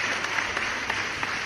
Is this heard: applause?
yes